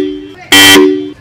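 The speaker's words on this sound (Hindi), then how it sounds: "सो सबसे पहले तो मैं आपको अपने जो मेगासोनिक हॉर्न्स है एक बार उनकी आपको आवाज़ सुनाता हूँ" Megasonic car horns sound in a short loud blast lasting about a quarter second, with a brief second toot starting at the end, preceded by a fading tonal hum.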